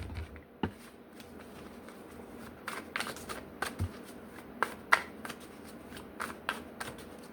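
A new deck of tarot cards is shuffled by hand, giving a run of soft riffling rustles and sharp little snaps and taps at a close distance, with no talking.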